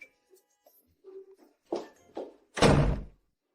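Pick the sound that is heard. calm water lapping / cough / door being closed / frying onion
door being closed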